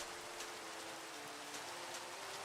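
Steady Minecraft rain patters continuously on a hard surface, a dense even hiss with no voices or other sounds breaking through.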